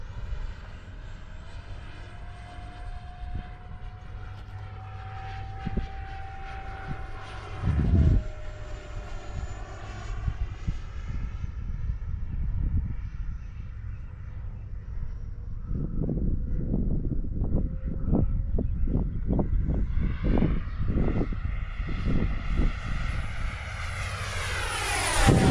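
F-14 jet fighter engines on a half-throttle flyby, a loud roar that swells and shifts pitch as the aircraft passes, building into a harsh, rumbling blast toward the end.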